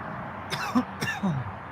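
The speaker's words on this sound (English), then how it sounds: "Coughed right in the phone." Two short rough coughs, like throat clearing, land right into a phone up close, with a brief gap between them.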